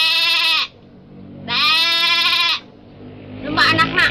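Sheep bleating loudly in two long, wavering calls separated by a pause, followed by rougher, broken bleats and farm background noise, close to the listener.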